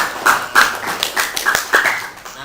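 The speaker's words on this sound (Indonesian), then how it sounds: "Tepuk tangan dulu untuk kita." Rhythmic group clapping in a classroom, a few sharp bursts of claps at irregular intervals, fairly close and loud, with no talking over it.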